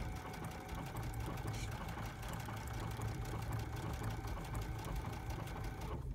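A sewing machine stitches jeans in a steady, fast rhythmic whirr with rapid needle ticking, heard close and continuous with no talking.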